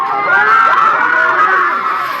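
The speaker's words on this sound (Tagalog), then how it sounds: "Pagpasok ng bride, hiyawan ang lahat." Crowd at a Muslim wedding ceremony shouting and cheering loudly as the bride enters, a dense wash of voices with high-pitched shrieks rising and holding steady.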